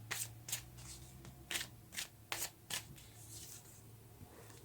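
Tarot cards shuffled and drawn during a Pisces reading: a series of brisk, close riffling and flicking bursts of card stock, about seven distinct swishes with short pauses between, over a quiet low hum.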